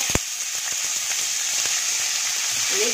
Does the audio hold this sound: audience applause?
no